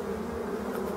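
Wild black bees buzzing in a forest near abandoned hives, a steady, close, continuous hum of many insects with no talk.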